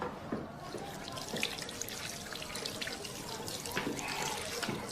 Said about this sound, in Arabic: ممكن نخش نغسل ايدي؟